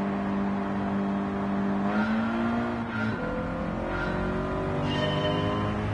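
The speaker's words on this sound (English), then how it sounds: "I've decided to race in a Nissan Silvia today." A Nissan Silvia racing engine in Gran Turismo 7 drones steadily at a sustained pitch that rises slightly, then shifts as the car changes gear, continuing at moderate, even loudness with no one talking.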